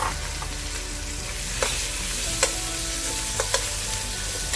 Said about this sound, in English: You want to cook your beef down nicely.